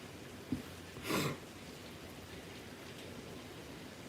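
Rain falling in Los Angeles, a soft steady patter throughout, with a short breathy sniff or snort partway through.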